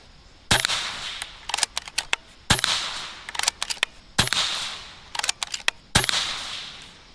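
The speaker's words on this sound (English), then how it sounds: "30 yards with pellets. An absolute sniper of a pellet gun." A pellet air gun fires four sharp shots at a target 30 yards away, evenly spaced about two seconds apart, each crack followed by quick clicks and handling noises from reloading between shots, with no talking.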